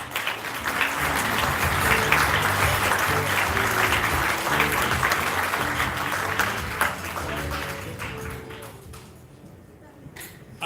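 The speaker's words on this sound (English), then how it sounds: "Please welcome him with a warm round of applause." Warm applause at a formal thank-you dinner for UN war veterans welcoming a military deputy commander to the podium, sustained clapping from a large room that fades toward the end, with speech faintly underneath.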